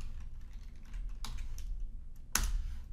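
Code typed on a computer keyboard, soft scattered key taps ending in a sharper clack, quiet and close with no talking.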